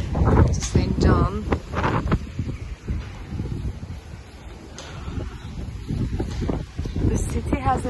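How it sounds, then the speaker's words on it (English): Strong wind gusting at the entrance to Selcuk near the way to St. John, Izmir, a broad steady rush with louder buffets at the start and end, under a voice speaking throughout. "The city has a very cute atmosphere, but it's very windy today."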